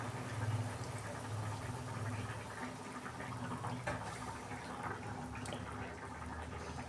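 Hilsa fish slid into a bubbling spice masala, giving a steady close simmering hiss and wet crackle with a low bubbling bed throughout and no talking.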